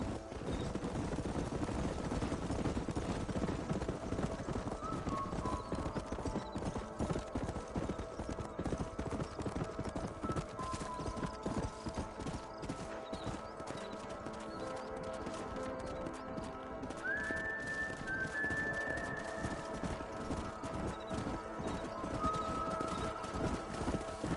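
Herd of horses galloping across a canyon in the Western video game Red Dead Redemption, a steady, dense drumming of hooves that continues throughout with occasional faint calls over it.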